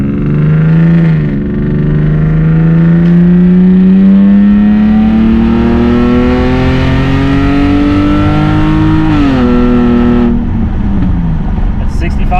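A salvaged BMW 325xi, newly repaired, drives on an open road, its engine droning close and loud as the revs climb steadily through a gear, dip at a shift, then rise again.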